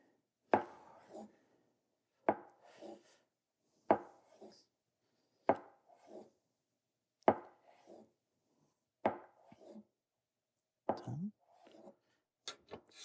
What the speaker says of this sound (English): So now we're gonna slice our tofu.